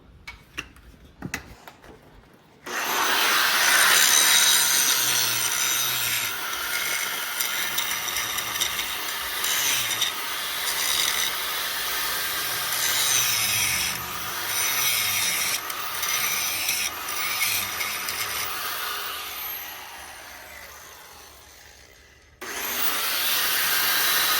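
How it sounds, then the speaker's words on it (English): Grinding on metal parts of a BMW E36 M3 subframe being reinforced: a loud, continuous abrasive rasp with scraping and rubbing texture, running steadily for about twenty seconds with brief dips before stopping and restarting near the end. "Just gonna grind a little bit more and we'll be good to go."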